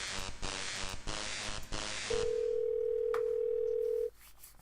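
A telephone dial tone in the Thimbleweed Park adventure game: after some busy noise, a steady, clean tone holds for about two seconds, then cuts off abruptly.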